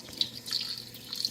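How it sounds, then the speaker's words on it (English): Cooler tap water runs over eggshells being rinsed in a kitchen sink, a soft steady splashing with brief brighter spurts, fairly faint and heard alone. "you're going to rinse it with a little cooler water"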